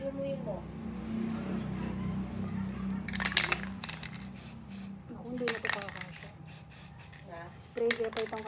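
Aerosol paint sprayed onto a palm tree craft, a sustained hissing spray followed by short bursts, with metallic rattles and a voice talking nearby.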